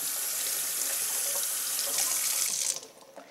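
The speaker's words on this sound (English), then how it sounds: "make sure that you give it a quick rinse" Cauliflower being rinsed under a running kitchen tap, a steady loud rush of water that suddenly cuts off near the end, with no voices.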